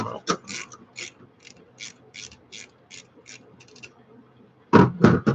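Metallic ratcheting clicks as studs are worked loose from a Chinese two-stroke gas bike engine, a steady run of close, evenly spaced clicks followed by a louder clatter of handling at the end.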